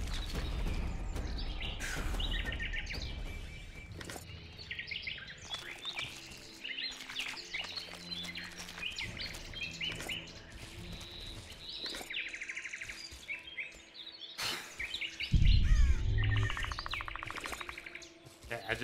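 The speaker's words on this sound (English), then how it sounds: "Yeah, the bird chirp's nice. So that's all I want to hear right now. Birds chirping, perfect." Songbirds chirp in an outdoor scene in the video game The Witcher 2: scattered bright tweets and short calls repeat over a mixed game soundscape with occasional thuds and hoof-like patter, and a heavy low impact comes near the end.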